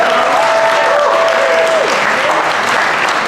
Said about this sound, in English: So I want y'all to clap for yourself for still believing in me and still believing in the business.